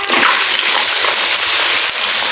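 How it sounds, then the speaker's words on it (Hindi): Chicken hits hot ghee in a kadai and sizzles loudly with a dense, continuous hiss and spatter, very close and alone. "कढ़ाई में मैंने 2 चम्मच के जो है वो घी डाला है। अब हम इसमें चिकन ऐड करेंगे"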